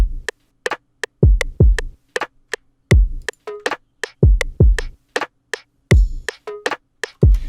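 A sparse lo-fi trap beat with its snares placed straight on the grid: punchy kick and snare hits with short gaps and occasional quick flams, played dry and close with no talking.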